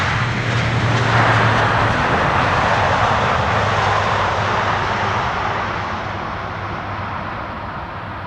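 An aircraft arriving on the Polderbaan runway 18R at Amsterdam Schiphol Airport roars loud and close, a broad steady jet rush with a low engine hum that fades slightly toward the end.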